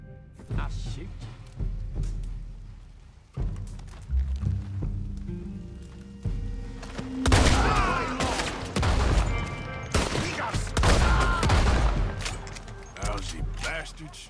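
Gunfire bursts in the Red Dead video game, a scattered volley of loud, close shots and thuds in the second half, mixed with game dialogue and voices talking throughout.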